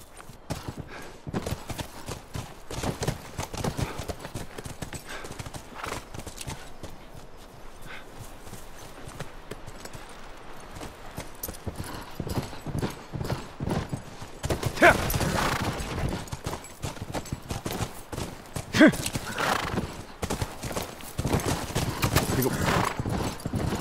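Horses trot with steady clip-clop hooves through The Last of Us Remastered, with occasional neighs and snorts rising over the hoofbeats while voices talk intermittently.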